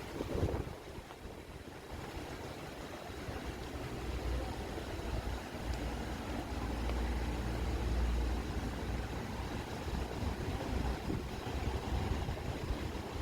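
Wind blows steadily across a mountainside, a constant roaring rush with buffeting gusts on the microphone that swell and ease throughout.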